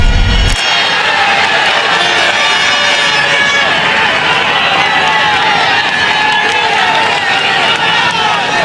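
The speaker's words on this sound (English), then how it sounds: "Vingegaard is greeted by huge crowds cheering him on from the roadside." Huge roadside crowds cheer a cyclist during a stage race, a loud continuous roar of shouting and cheering that holds steady throughout, with a voice talking over it.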